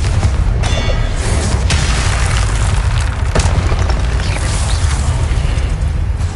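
The Confringo spell in Hogwarts Legacy lets off a loud fiery blast, and more booming, rumbling battle noise follows with crackles and sharp impacts, filling the whole stretch at close range.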